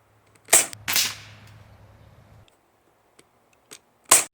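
A Crosman Legacy 1000 pump air rifle fires a sharp, close crack with a short decaying tail. Other crisp mechanical clicks come before it and a few seconds after.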